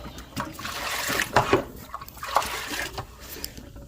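Cold tap water being poured into a cooking pot, an uneven splashing trickle with a few bubbling gurgles, close and moderately quiet, with no talking.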